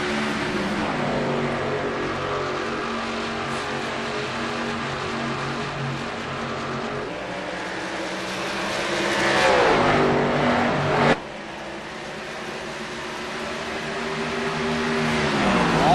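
Stock car field roaring away at the green flag at Dover in a Winston Cup era race, a dense, loud wall of engine noise that swells around nine to eleven seconds, briefly drops, then builds again.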